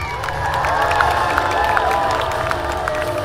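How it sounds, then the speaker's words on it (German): A crowd at an outdoor knight tournament show applauds and cheers in a loud, continuous wash of clapping, whistles and shouts, with a voice faintly riding over it. "Ja, das ist Applaus für"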